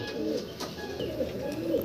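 Pigeons coo with soft, low, rolling calls repeating throughout a short, close stretch, with little else around them.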